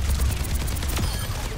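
Overwatch 2 gunfire with a Soldier 76 soldier's rifle in the fight, a dense run of rapid shots thudding close and loud throughout, one sharper crack near the end.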